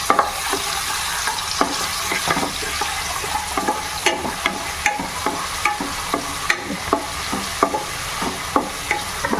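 Chopped onions fry in hot oil for mutton keema curry, a steady close sizzle broken by frequent sharp scrapes and clacks of a spoon stirring the pan, with no talking.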